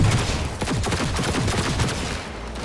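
Rapid bursts of gunfire from the video game Cyberpunk 2077 crackle continuously, dense overlapping shots forming a loud, sustained barrage with no pause.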